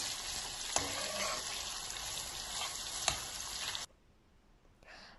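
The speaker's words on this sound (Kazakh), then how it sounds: "Қызған майымызға етімізді салып, араластырып қуырып аламыз." Meat being fried in hot butter in a pan gives a loud, steady close sizzle with a couple of sharp clicks, then cuts off abruptly to near quiet.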